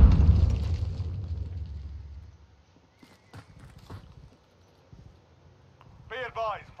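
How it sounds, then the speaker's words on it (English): A cruise missile launch in a Call of Duty: Modern Warfare hardcore team deathmatch on the Azhir Cave map: a loud, deep rumbling blast fades over about two seconds, followed by scattered gunfire clicks and distant game noise. "Cruise missile, go for launch."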